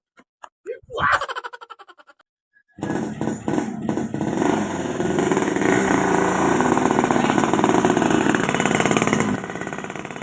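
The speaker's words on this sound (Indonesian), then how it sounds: "Oh, datang motor. Motor aing." Motorcycle arrives and idles close by, its engine chugging loud and steady after a few seconds of people talking, then easing slightly at the end.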